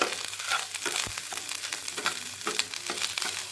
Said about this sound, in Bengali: কাশ্মীরি লঙ্কা গুঁড়োটা দেওয়ার সাথে সাথে আমি একটু ভালো মতো মিশিয়ে নিচ্ছি।